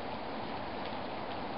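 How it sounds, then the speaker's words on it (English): Rain falling outdoors, a steady, even wash of dense patter heard from inside, continuous and moderately loud with no voices. "Do you know it's raining out there?"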